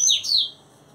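A double-collared seedeater sings a short, loud whistled phrase made of two bright, sweeping notes, close and clear against quiet background.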